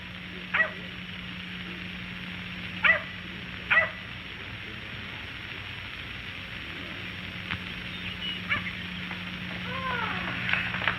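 Dog barks from a 1946 Hollywood film scene: three sharp yips in the first four seconds, then fainter whimpering and small yelps, over a steady low hum with no talk.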